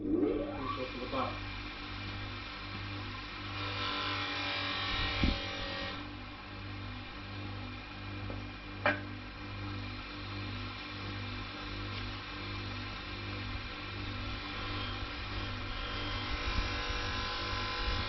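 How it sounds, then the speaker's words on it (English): Steady electric buzzing hum of a buffing wheel running cutting compound on stainless steel trim for a Holden HT Monaro, continuous drone with brief scraping contacts. "start with the cutting compound on the sides of the wheel"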